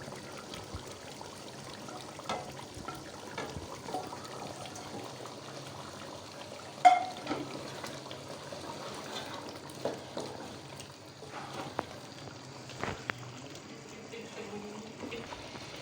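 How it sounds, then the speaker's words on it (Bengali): Fried potatoes tipped into simmering beef curry, giving a soft, steady wet sizzle with a sharper clatter near the middle and scattered stirring knocks, moderately faint throughout. "এখন আমি ভাজা আলুগুলি দিয়ে দিচ্ছি এখানে।"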